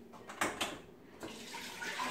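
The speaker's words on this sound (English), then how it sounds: "I'm going to put 2 cups of water" Water poured into a pot for cooking brown rice, a soft splashing trickle with a couple of sharper spills early on, then a steadier gentle flow, close and fairly quiet.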